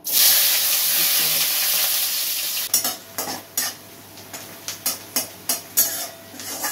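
Onions frying in a pan for a jackfruit dish, a loud close sizzle that drops suddenly, then a series of sharp scraping stir strokes at an uneven rhythm over a lighter hiss.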